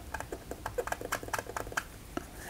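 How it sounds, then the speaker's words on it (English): Hand rubbing over a sheet of glossy drawing paper, a run of soft, crackly scratches and ticks in quick irregular bursts, close and fairly quiet with no voices. "This paper makes funny sounds when I run my hand on it."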